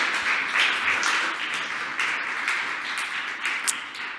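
An audience at a city initiative launch event applauds with a dense, even patter of clapping. It is moderately loud and sustained throughout with no talk over it.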